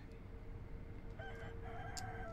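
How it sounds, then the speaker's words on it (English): A rooster crows in the video game Sekiro, a faint harmonic call rising over a steady low rumbling background. "Go away, rooster."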